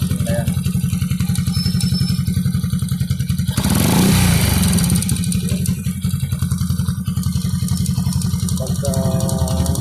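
A warmed-up 100–125cc motorcycle engine with a marble-like internal rattle idles with a fast, even clatter, then revs sharply around the middle before settling back to a lumpy idle, close and loud, with a brief voice near the end.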